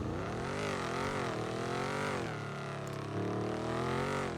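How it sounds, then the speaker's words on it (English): Loud engine drone inside a moving car, the pitch rising and falling with acceleration and gear changes, steady and close. "I know this car is pretty loud."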